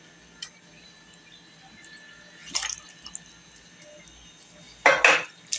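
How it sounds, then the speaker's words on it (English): Fruit added to pudding in a serving dish, a quiet scene with a few scattered clinks, a soft wet clatter midway and a louder splashing plop near the end. "We're going to go ahead and add our fruit in there."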